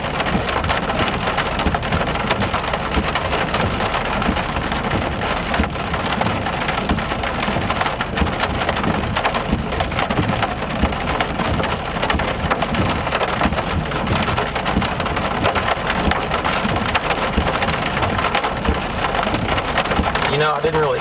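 Rain pours steadily and loudly through a severe spring storm in northern Oklahoma, a dense unbroken hiss of drops hitting surfaces with faint thunder rumbling low underneath.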